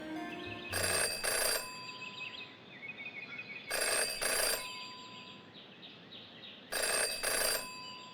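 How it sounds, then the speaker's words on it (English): A telephone rings in the video game Jenny LeClue Detectivu: three evenly spaced double-burst rings, loud and close, over a quiet hissy background with no talking. "Jenny had learned never to ignore a ringing phone"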